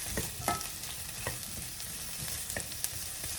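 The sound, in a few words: sausages frying in a pan with onions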